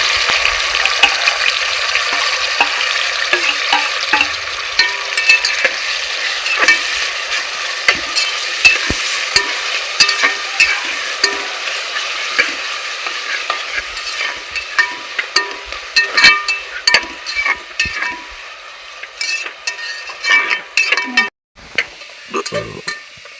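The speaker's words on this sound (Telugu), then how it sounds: "మనకు ఉల్లిపాయలు అయితే వేగిపోయినాయి" Onions sizzling and crackling steadily in hot oil in a pan with frequent stirring, a close, busy frying sound that continues almost throughout, thinning out near the end.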